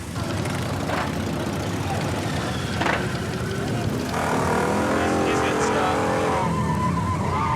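A motorcycle engine roars and revs steadily at a rally during exhibition driving, loud and continuous with rising throttle toward the end, while voices talk faintly in the background.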